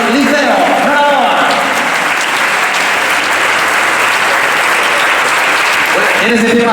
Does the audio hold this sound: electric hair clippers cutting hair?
no